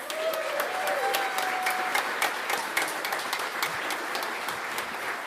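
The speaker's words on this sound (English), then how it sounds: "Please give them another round of applause." An audience applauds after a children's Christmas musical, with steady, moderately distant clapping from a crowd that continues evenly throughout. A brief whistle-like tone sounds near the start.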